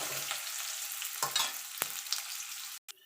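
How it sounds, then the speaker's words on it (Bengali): Onion fries in white oil in a pan, a steady bright sizzle crackling throughout, broken by a few stirring scrapes and a short dip near the end. "পেঁয়াজটা একটু ভাজা ভাজা করে নেব"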